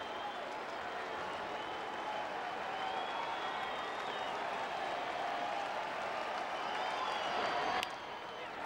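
A baseball stadium crowd cheers and applauds in a steady, dense roar that continues unbroken, then drops away sharply near the end.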